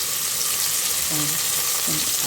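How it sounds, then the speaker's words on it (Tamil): Onions for biryani sizzle and crackle steadily in a hot pan, with a couple of brief scraping stirs partway through. "வெங்காயத்தை சேர்த்து நல்லா வதக்கி விட்டுக்கலாம்"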